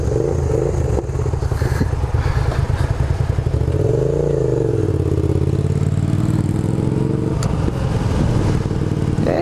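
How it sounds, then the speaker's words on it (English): A Suzuki SV650 motorcycle engine runs close and loud after an engine swap, its carburettor needing rebalancing, with a steady throbbing idle, a couple of revs and scattered sharp pops. "You can hear it pop, pop, pop, but that's because the carb still needs rebalancing"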